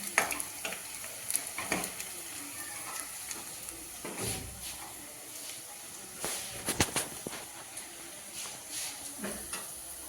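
Steady frying sizzle of saag (leafy greens) being roasted on a stove, with intermittent clatters and scrapes of stirring in the pan, close and fairly quiet, no talking.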